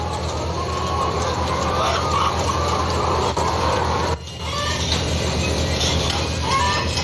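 Laying hens clucking and calling in colony housing with perches, a dense continuous flock chatter with a steady low mechanical hum underneath and no speech.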